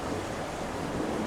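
Ocean waves roll nearby as a steady wash of surf noise mixed with wind buffeting the microphone, continuous and fairly loud.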